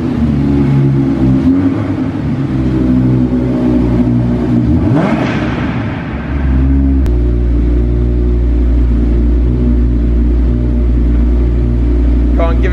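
A car engine starting up in a car park, a loud, deep steady rumble with a rising rev midway, running close and continuous throughout.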